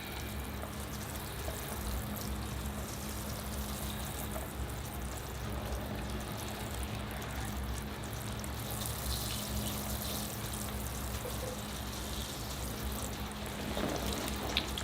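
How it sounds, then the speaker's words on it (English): Water poured onto a tigerbark ficus penjing planting at the back of the pot, a steady close trickling and splashing that runs continuously under a faint background hum. "I'm going to give it another watering at the back of the planting here."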